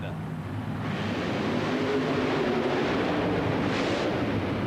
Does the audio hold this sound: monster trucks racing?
yes